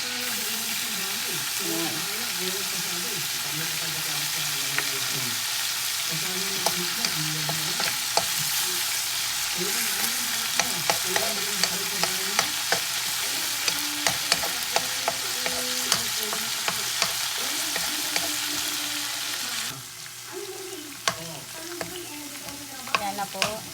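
Garlic fries in hot oil under steady sizzling while it is stirred, with scraping utensil clicks scattered throughout; a voice speaks briefly at the end.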